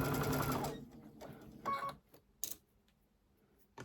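A sewing machine stitching a curved quilt seam, running in a steady loud whir at first, then stopping and giving a few short bursts and clicks with quiet gaps in between.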